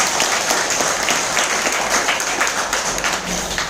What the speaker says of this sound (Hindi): उस दोस्त के लिए एक जोरदार तालियां चाहूंगा